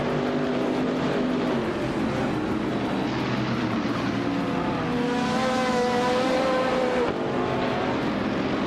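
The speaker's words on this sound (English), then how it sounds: "Casey Wingboy is driving a Ferrari F4 30 GTC" Racing car engines in a racing video game, a Ferrari F430 GTC among the pack, roar loudly and continuously, one engine's pitch climbing and shifting as it accelerates, with no voices.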